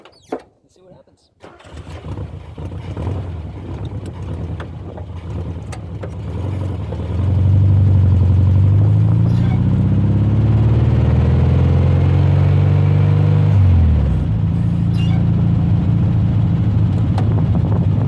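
A light roadster starts and drives off, its engine catching after a brief quiet, then idling and revving into a loud steady run with rising whine, close by.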